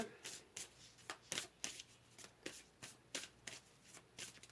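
Oracle cards are shuffled and pulled at close range, a rapid series of crisp riffles and flicks in uneven bursts, quiet and without speech.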